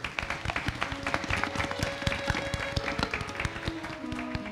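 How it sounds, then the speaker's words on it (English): A crowd claps in sustained applause, many hands patting at a steady, lively pace. "let's give them a big round of applause, please"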